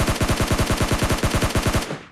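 Burst of SCAR rifle fire in the mobile game PUBG Lite, about sixteen rapid evenly spaced shots, loud and close, cutting off sharply with a brief tail.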